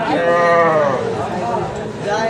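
Young calves at a cattle market bawl with high, drawn-out moos, loud and close, one long call followed by another near the end.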